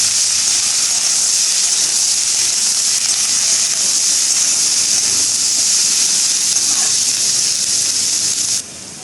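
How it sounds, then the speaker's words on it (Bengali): Constant loud hissing sizzle of cabbage and peas frying together in a pan, steady throughout, then dropping off abruptly near the end. "বাঁধাকপিগুলো সাথে দিয়ে দেবো মটরশুটিগুলো এগুলো একসাথেই ভেজে নেবো আমি"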